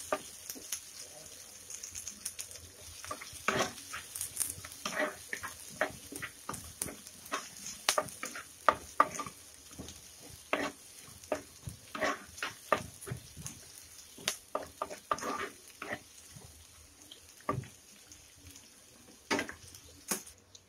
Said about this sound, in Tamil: நான் வந்து ஒரு பெரிய சைஸ் வெங்காயத்தை நல்லா பொடியை கட் பண்ணிவிட்டு சேர்க்குறேன் இதை நல்லா வதக்கி விடுங்க